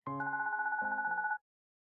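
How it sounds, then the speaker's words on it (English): A mobile phone rings in a video game, a clean electronic ringtone with steady pulsing tones and a stepped lower melody, heard alone for just over a second before it cuts off. "Just as I'm about to cross the street, my phone rings."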